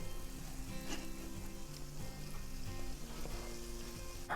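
Homemade donuts are frying over low heat in a pan, giving a quiet, continuous sizzle with faint crackles and a few light clicks, heard close with no voices.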